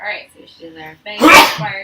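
A loud, close sneeze bursts out amid casual conversation, with people talking just before and after it.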